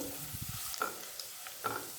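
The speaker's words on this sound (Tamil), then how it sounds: "இந்த எண்ணெயில் பூண்டு நல்லா வதங்கட்டும்." Steady sizzle of garlic frying in hot oil, with a few soft scraping stirs of a utensil in the pan, close by.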